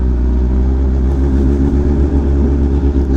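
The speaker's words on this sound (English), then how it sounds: "Oh, that's a nice Hellcat." Deep, loud engine rumble at a cars and coffee meet, with a Dodge Hellcat car nearby as its low drone pulses steadily for a few seconds.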